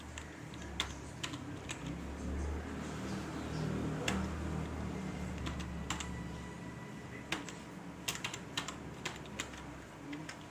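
Keys on a computer keyboard being typed in short irregular runs, with clicky taps closer together in some stretches, over a steady low room hum, close and moderately loud, with no talking.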